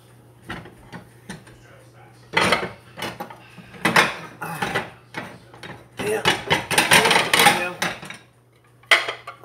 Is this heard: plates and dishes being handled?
yes